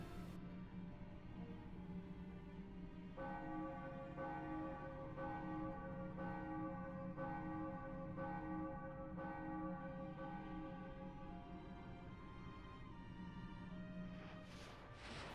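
Bell tone pulled from Nintendo Wii game files, rich sustained harmonics ringing steadily with repeated soft strikes over about fifteen seconds, no voices.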